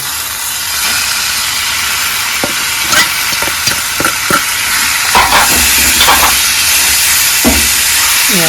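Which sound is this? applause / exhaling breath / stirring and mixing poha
stirring and mixing poha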